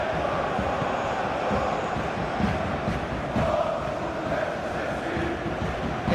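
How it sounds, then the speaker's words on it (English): A football stadium crowd at Olympiacos versus Real Madrid in the Champions League keeps up a dense, steady roar of voices and chanting, heard from a distance and holding at an even level throughout. "Well, the crowd clearly like what they just saw."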